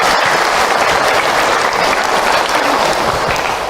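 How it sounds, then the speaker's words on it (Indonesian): Audience at an Isra Mi'raj religious talk by an Ustadz applauds steadily, dense close clapping filling the room without a break for a few seconds. "Tepuk tangan buat bunda semua yang ada."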